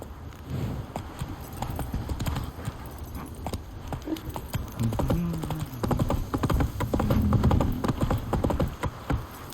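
Horse hooves clip-clop at a steady gallop rhythm in The Witcher 3 video game, close and prominent throughout, with a few faint whinnies and no talk.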